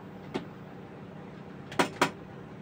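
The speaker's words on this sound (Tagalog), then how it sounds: "Yung upuan ko maingay, sira na." A noisy, broken desk chair by a PC rig creaks in three short sharp bursts, one alone and then a quick pair, close and moderately loud over steady background hum.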